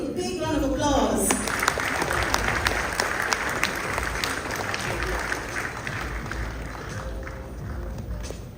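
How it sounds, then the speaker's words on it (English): A conference audience gives a guest of honor a round of applause: a sustained wash of many hands clapping, loud at first and slowly fading, with a brief voice at the start. "can you please give a big round of applause?"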